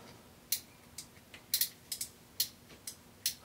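A Schwinn Paramount bicycle hub ratchet clicks in about ten sharp, irregular ticks at close range, standing alone over a quiet background.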